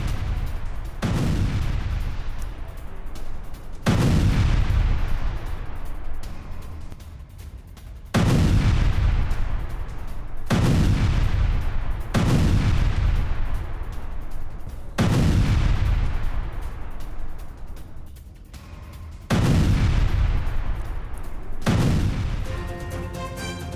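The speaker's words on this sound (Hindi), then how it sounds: "ब्लास्ट का वीडियो सामने आया है।" Heavy Israeli airstrike blasts near the Beirut airport: about seven loud, deep booms, each followed by a long rumbling decay, come at irregular intervals several seconds apart with no talking.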